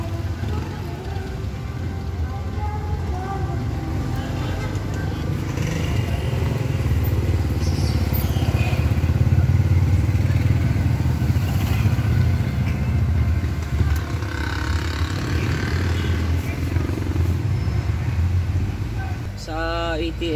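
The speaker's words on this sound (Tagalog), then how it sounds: "Yan ang makina natin." A vehicle engine runs steadily during a mechanic's check, on a vehicle whose power steering has a problem, giving a continuous low, loud hum with faint clatter and occasional voices nearby.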